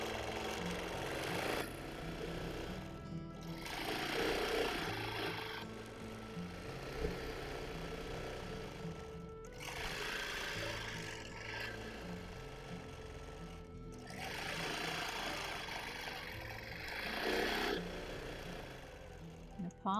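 A sewing machine stitching a feather quilting pattern runs in steady bursts, stopping briefly every few seconds before starting up again, with a continuous mechanical whir and low rumble close by.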